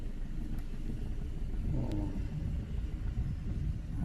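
A car eases off in second gear during a driving lesson, its engine a low, steady rumble that stays close and even throughout, with no voices over it.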